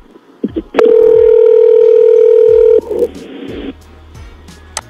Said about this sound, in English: Let's play a phone call.